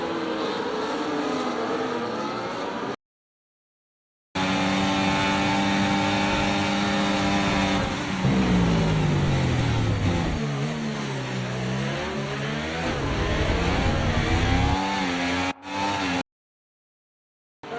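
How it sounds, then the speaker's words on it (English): Formula 1 cars in the F1 24 racing game, one overtaking another with DRS: loud, high-revving engines whining and shifting pitch as the cars pass, continuous and close, broken by two short silent gaps. "Verstappen with DRS trying to overtake Norris, as around the outside he goes and completes the overtake."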